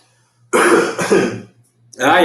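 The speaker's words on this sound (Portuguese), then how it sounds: "Imagina se a gente estivesse dentro da sala de aula e eu desse uma tossida dessa." A person coughs and clears their throat indoors, two loud, rough bursts close to the microphone separated by a short pause.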